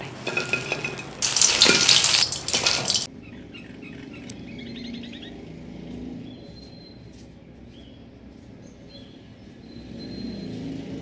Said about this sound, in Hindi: मिर्चें फ्राई हो गई हैं, इसको निकाल लेते हैं।